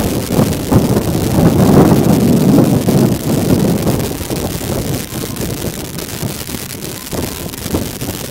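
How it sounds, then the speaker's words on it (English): Wind blows across an outdoor softball field during a game, a steady buffeting rumble against the microphone that swells and eases in gusts, with no voices. "It's just always windy out here."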